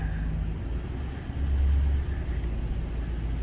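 A truck slowing under smooth braking while underway, a steady low engine and road rumble that swells briefly in the middle before settling back, with no talk.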